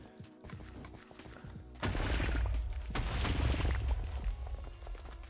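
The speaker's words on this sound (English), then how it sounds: "It's actually way less explosions than I was expecting." A rapid burst of gunfire and booming explosions erupts after a quieter start, dense and rumbling, like game combat audio, from modded Minecraft.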